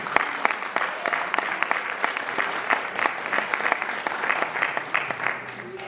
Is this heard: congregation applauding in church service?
yes